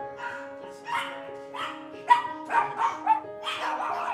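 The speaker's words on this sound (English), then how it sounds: "Like this little dog, Charlotte" A small elderly poodle with an abscessed tooth gives a string of short, high yips and whimpering barks, close and fairly loud, with brief pauses between bursts and no talking.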